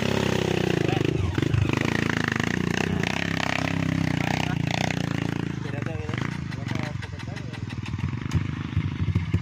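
A trail motorcycle roars loudly at full throttle, its engine clattering and revving continuously while people talk over it.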